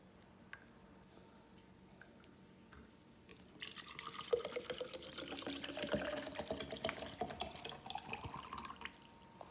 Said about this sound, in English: So I'm just gonna fill up my cup with this Zephyr Hills bottle.